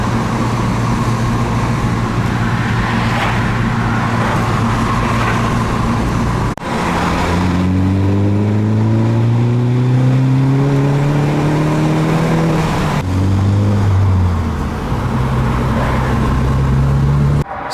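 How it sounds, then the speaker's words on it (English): Mini Cooper S fitted with a Pipercross panel filter, heard up close with loud engine revs rising and falling, turbo flutter bursts between throttle blips and plenty of intake noise, no voices. "With the Pipercross panel filter fitted, you can hear a massive difference in the turbo flutters."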